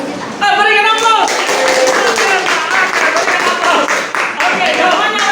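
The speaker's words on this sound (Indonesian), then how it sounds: "Berikan aplaus." Classroom applause bursts out after a short pause and carries on steadily to the end, with dense overlapping clapping from many students and voices mixed in.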